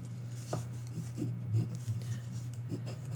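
Cardstock being folded into a 3D fishing bobber gift box along kiss-cut score lines: soft, close rustles and a few quiet creasing rubs spread over a few seconds.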